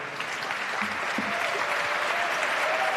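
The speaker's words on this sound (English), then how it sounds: "Let's give them a big round of applause." Audience applause at a closing ceremony after a white paper presentation, steady dense clapping from a crowd lasting throughout at even loudness.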